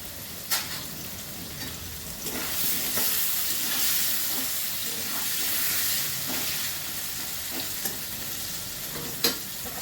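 Potato pieces fry in a pan with turmeric and salt, giving a steady, close sizzle with faint hissing and a few sharp stirring clicks scattered through it.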